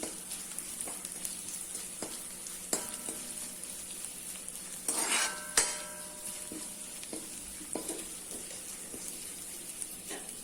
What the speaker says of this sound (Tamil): கொஞ்சம் நேரம் செவக்கிற வரைக்கும் நம்ம கொஞ்சம் அதை கிண்டி விட்டுட்டே இருக்கணும்